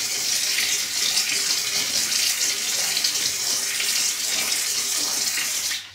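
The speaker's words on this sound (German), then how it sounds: "Von daher nehme ich jetzt den Druckluftsprüher hier." A hand pressure sprayer puts out a fine, continuous hiss of pressurised osmosis water onto chilli plants, loud and close, holding steady for several seconds before cutting off abruptly.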